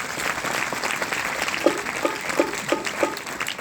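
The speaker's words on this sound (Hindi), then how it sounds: "तो सभी के लिए एक बार जोरदार तालियां बजा लो।" An audience at an Arya Samaj Vedic bhajan gathering at a gurukul clapping together, a dense, steady round of applause heard from within the crowd, with a few louder individual claps standing out.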